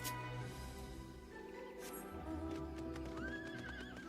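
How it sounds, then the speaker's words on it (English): A horse mount in Dragon Age: Inquisition whinnies loudly, a drawn-out neigh rising over a busy ambient game soundscape, with faint hoof clopping beneath. "The Leviathan horse."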